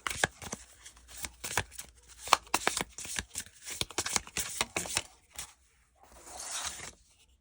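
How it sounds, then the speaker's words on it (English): Oracle cards are shuffled by hand in rapid, close, crisp riffling flutters, with short bursts and pauses and a softer final shuffle near the end. "Let's pull a couple more cards."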